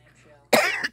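A single loud, harsh cough bursts out after a quiet moment, close by, with a brief second hack trailing at the end.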